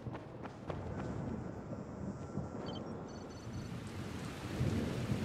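Steady rain pours down with a low rumble of thunder rolling underneath in the Dying Light video game, a continuous dense wash at moderate loudness with no voices.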